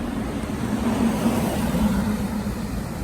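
Cars passing on a downtown city street, a steady low rumble of traffic heard close by and fairly loud, with no distinct single vehicle standing out.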